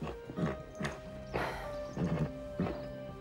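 A horse in an animated series clops its hooves in several sharp, separate knocks and lets out a whinny. The sounds are close and moderately loud, with short pauses between them.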